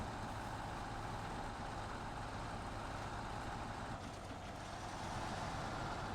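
Heavy truck engine in the off-road driving game Snowrunner on a Scandinavian map, a steady low rumbling drone, moderately loud and continuous, with a slight rise in intensity near the end.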